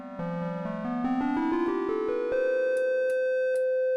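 A synthesizer plays a rising series of notes through a filter module that removes the highs, leaving a dark, muffled low tone, each step pulsing rhythmically, ending with sharp clicks.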